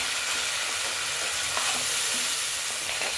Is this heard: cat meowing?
no